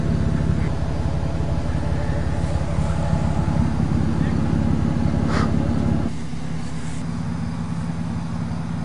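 A 1993 Toyota Supra turbo engine runs steadily nearby with a low, throaty rumble, partly masked by wind buffeting the microphone, and the engine note drops slightly near the end.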